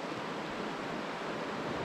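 Steady rushing river water washes around a canoe on a wilderness camping trip, a continuous broadband surge with wind noise on the microphone and no talk.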